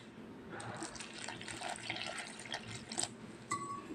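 Water is poured from a vessel into semolina and flour for karanji pastry dough, a close, soft splashing and trickling that runs for a few seconds with small drips at the end.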